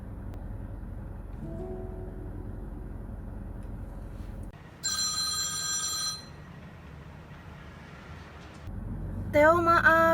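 A telephone rings in two bursts, a long trill midway and another starting near the end, loud and close against a steady room background, with no talk.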